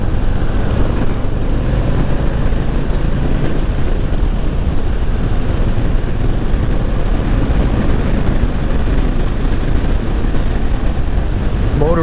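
A 2022 Harley-Davidson Low Rider S motorcycle engine runs while riding, a loud, steady, even drone with constant wind roar and no talking.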